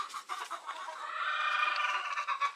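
Chickens at a backyard gamefarm cluck and squawk close by, a rising string of bright, chattering calls with no one talking.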